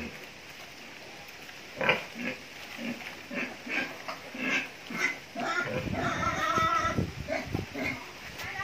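Pigs in a farm pen on a small sow-breeding farm grunt and oink in short, irregular bursts, close by and moderately loud, growing into busier overlapping squeals and snorts toward the end.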